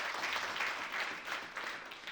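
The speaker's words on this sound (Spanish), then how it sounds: "Fuerte ese aplauso al Señor" A church congregation claps in a sustained, dense round of applause, heard faint and distant across the hall.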